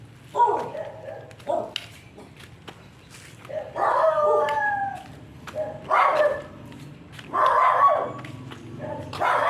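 A dog barks repeatedly in short, high-pitched bursts, some stretching into yelping whines, at moderate distance with pauses between outbursts.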